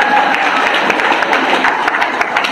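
Audience applause at a public speech in Balehonnuru: a dense, steady wash of many hands clapping from a crowd, fairly loud and continuous throughout, with faint voices mixed in.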